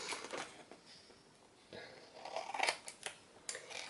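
Scissors cut open a paper die-cut pack from a summer seaside scrapbooking collection, making quiet, close snips and soft paper rustles that speed up toward the end.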